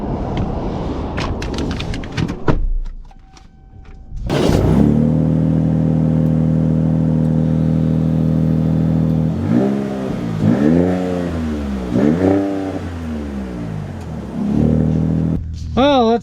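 A 2025 Ram Rebel GT pickup with a Hurricane engine and passive exhaust pulls away loudly, holding a steady drone and then rising and falling through revs and gear changes, close by with a voice speaking at times.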